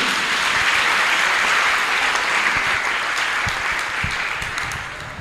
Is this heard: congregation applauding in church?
yes